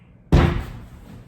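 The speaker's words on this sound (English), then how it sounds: "it opened with a loud bang" A door bursts open with a single loud bang, sharp and close, followed by a brief fading rumble.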